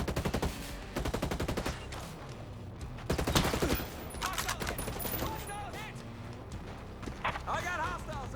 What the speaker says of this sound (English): He literally tried to shoot through that.